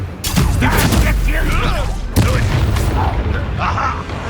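Confringo and Incendio spells blast in Hogwarts Legacy, two loud, close explosive bursts with crackling, fiery tails, the second striking at about the midpoint, followed by lingering rumble and sizzle.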